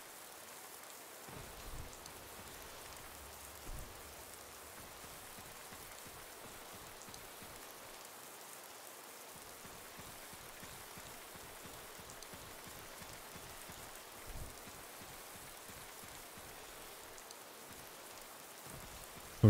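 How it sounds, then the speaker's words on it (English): Steady rain falls in a zombie video game, a constant close patter with scattered heavier drops and no talk. "Forever raining, isn't it, in this pack?"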